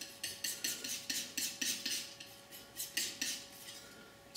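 Palette knife mixing oil paint of ultramarine blue, a little burnt sienna and a touch of red on a palette, heard as a steady series of close scraping, clinking strokes in an even rhythm, with no talk.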